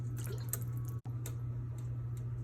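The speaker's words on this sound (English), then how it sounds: "make sure you get some salted water going" Water running into a pot for salted pasta water, a steady close splashing stream over a low hum, broken by one brief gap near the start.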